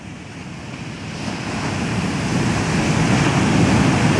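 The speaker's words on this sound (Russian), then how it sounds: "Как будто дразнит океан, вот подходит дальше" Ocean surf washing up onto a beach, a steady broadband roar of breaking waves with wind noise that swells gradually louder toward the end, no voices.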